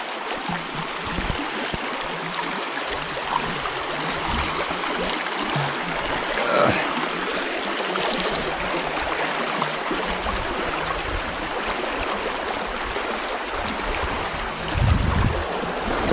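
Creek water flows steadily over rocks in a rushing, broadband wash that fills the whole stretch, with a brief low thump near the end.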